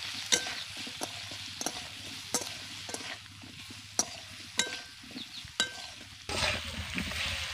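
A spoon scrapes and knocks in a pan as raw mango is tossed with turmeric powder and salt, giving irregular close clicks over a low, steady sizzle that grows a little louder toward the end.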